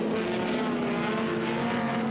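Several touring cars in the Gerry Marshall Trophy at Goodwood Members' Meeting battle through Woodcote corner, a loud, steady blend of racing engines roaring continuously without pause.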